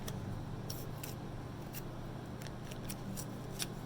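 Scissors trimming a sheet of double-sided tape for homemade stickers: a quick series of crisp snips over a steady low background hum.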